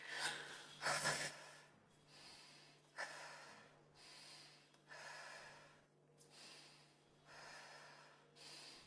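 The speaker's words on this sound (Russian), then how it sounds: "Глубокий вдох, выдох через рот" A person in a guided therapy session breathes deeply, inhaling through the nose and exhaling through the mouth. Roughly eight slow, steady breath cycles sound close but faint, with no talking.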